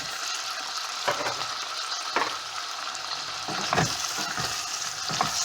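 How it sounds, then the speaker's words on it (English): Pork sizzles in a pan of caramelized sugar, a steady close frying hiss broken by stirring scrapes about every second, with no talking. "Now that it's caramelized, I'm gonna put my pork."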